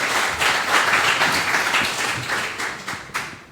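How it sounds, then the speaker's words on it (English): An audience at a Big Ideas panel discussion on the first day of the Bocas literary festival gives a big round of applause welcoming the panel, dense and sustained before tapering off with a few final claps. "I just ask you to give them another big round of applause to welcome them"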